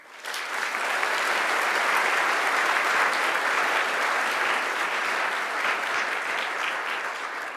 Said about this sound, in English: Please give a big round of applause for the academics and staff members who believed in us.